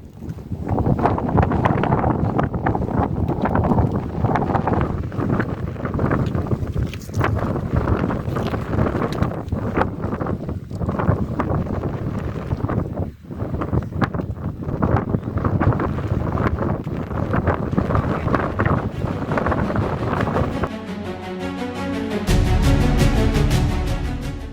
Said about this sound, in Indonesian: yang sangat berbahaya adalah angin dingin yang menusuk-nusuk telinga